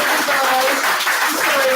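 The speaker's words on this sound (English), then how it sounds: "Let's give Owen a round of applause." A crowd claps in a dense, steady round of applause for a speaker at a Friday evening Ignite event, loud and close, filling the whole moment without a break.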